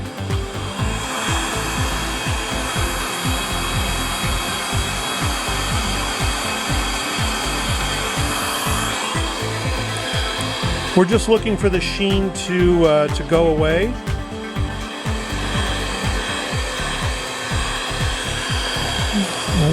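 Heat gun blowing hot air across epoxy coating on a motorcycle muffler quiet core, a continuous loud rushing hiss with a short disturbance partway through and someone talking over it.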